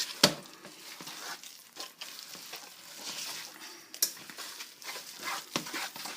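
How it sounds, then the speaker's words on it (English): Apple pie filling being stirred in a bowl, heard as close, wet, sticky swishing and scraping strokes that continue steadily throughout with a few sharper clicks of the spoon. "Just keep stirring."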